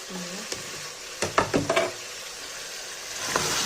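Whole spices sizzle gently in hot oil in a pot, while a run of wooden stirring knocks and scrapes sounds close by in the middle.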